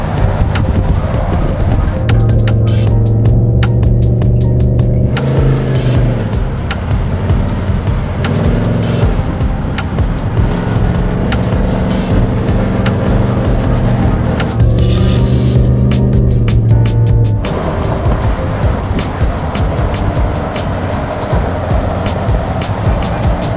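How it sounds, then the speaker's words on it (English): A GMC Jimmy with a 454 V8 engine is driven, giving a loud, steady engine drone with shifting tones as it revs and changes gear, close and continuous throughout. "So we're gonna drive her around, see how she does"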